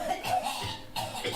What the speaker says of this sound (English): noticed a huddle of people standing together, coughing